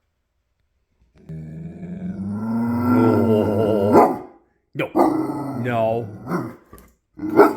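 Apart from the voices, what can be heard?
dog growling and barking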